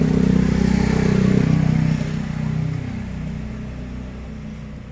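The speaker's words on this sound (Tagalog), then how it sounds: "umaandar na yung unit, lumalamig, umaandar yung compressor" Air conditioner unit running with its compressor engaged, a steady low mechanical hum and drone that drops slightly in level partway through and continues evenly.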